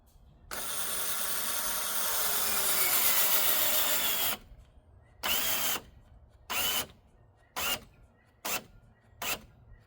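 A battery drill with a worn-out battery drives screws into a wooden porch column: one long whirring run of about four seconds, then five short bursts with pauses between them. The sound is close and there is no talk.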